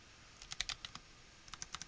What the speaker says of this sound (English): do a little sound test, and you can see how slow I am with typing